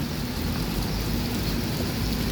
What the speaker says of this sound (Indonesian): Lagi hujan di terminal Alang-Alang Lebar.